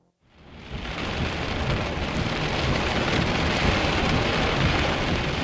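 A violent thunderstorm with heavy rain building quickly to a dense, continuous roar, deep rumbling thunder folded into the downpour, loud and with no voices.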